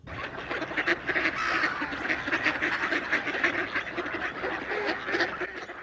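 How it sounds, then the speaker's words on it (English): Ducks at a zoo quack loudly and continuously, many calls overlapping in a busy, close chorus without pause. "the ducks definitely were the coolest animals in the zoo"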